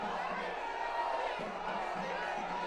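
A large crowd at Prime Minister Modi's roadshow in Kochi, Kerala, keeps up a dense, continuous roar of voices and cheering, with someone talking over it.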